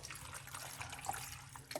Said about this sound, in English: Then we're gonna put some water.